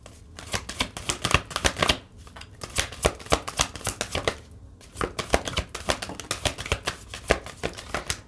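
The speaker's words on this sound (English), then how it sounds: "I saw this regeneration card as I was shuffling." Tarot cards are shuffled in quick riffling bursts, a rapid crisp flutter repeated several times with short pauses between, close and clear with no talking.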